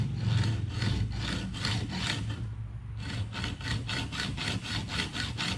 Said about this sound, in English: I'm gonna get this hacksaw here, and we're just gonna cut it right there